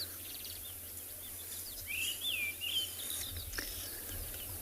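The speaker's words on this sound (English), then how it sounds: "I think it's actually the white-browed scrub robin again." A white-browed scrub robin calls on an evening safari, with a short, moderately distant whistled phrase standing out over a steady hiss of insects and faint background noise.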